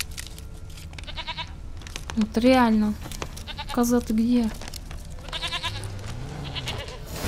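Goat bleating in The Witcher 3 game, several wavering bleats spaced through the clip beneath someone talking in Russian over quiet game ambience.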